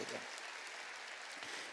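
A church congregation applauds in worship, a brief, steady spread of many hands clapping at a moderate distance, with a voice faintly heard at the start.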